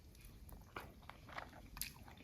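Close, quiet chewing and biting of a meal of kappa (tapioca) mixed with Kerala-style king fish curry, a few soft, irregular crunchy bites over about two seconds.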